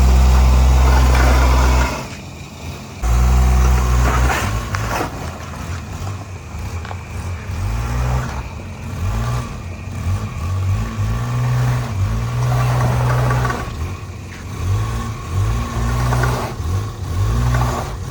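Engine of an automatic Maruti car started at midnight after sitting unused for a long time, a loud low rumble at first, then a steadier idle with revving swells and faint background noise.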